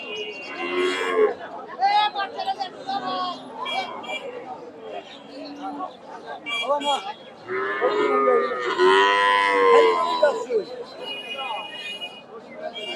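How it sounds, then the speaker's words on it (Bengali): A Friesian cow lows repeatedly at a cattle market, several long moos close by, with people chattering in the background of a busy crowd. "এখানে একটা ফ্রিজিয়ান গাভী দেখতেছি"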